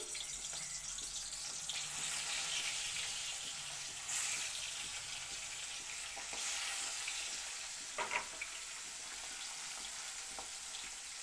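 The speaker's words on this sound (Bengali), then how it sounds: "তেলটাও ভালো করে গরম হয়ে গেছে তার মধ্যে দিয়ে দিলাম একে একে মাছের পিসগুলি" Pieces of boal fish, rubbed with turmeric and salt, fry in hot oil with a steady, hissing sizzle and a few louder pops and spatters, close and continuous with no voices.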